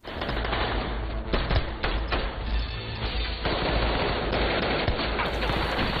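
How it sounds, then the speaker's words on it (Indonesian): Gunfire from long-barreled rifles in a film action scene, rapid bursts of automatic shots crackling densely and loudly across the whole span, close by with no voices. "Seluruh anak buah Kijima memberondong siapapun yang menghalangi pergerakan mereka."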